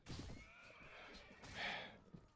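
A horse whinnies in the Mount & Blade: Warband video game, a fairly quiet, drawn-out neigh with a brighter rise near the end, alongside faint game noise and a voice.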